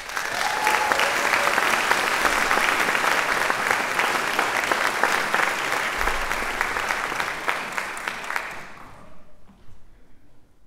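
An indoor audience at an evening honors event breaks into sustained, loud applause to welcome a speaker. The clapping fades out near the end, and no one speaks over it.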